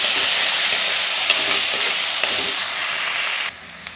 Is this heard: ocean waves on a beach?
no